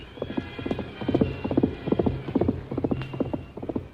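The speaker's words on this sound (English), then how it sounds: "Silver's hoofs beat out a savage tattoo." Horse hooves pounding over rough ground as a radio drama sound effect, a rapid rhythmic clip-clop of galloping beats running steadily and fairly loud throughout, with no voices.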